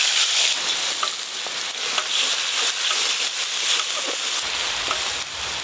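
Spice paste mixed with water hisses and sizzles steadily in hot oil, with a loud, continuous frying crackle and a few small pops for the whole stretch.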